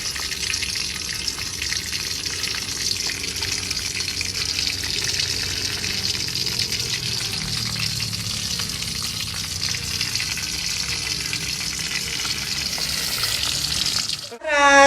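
Mushrooms and tofu frying in a pan give a steady, close sizzle with faint watery crackle that holds evenly throughout, ending in a brief knock at the very end.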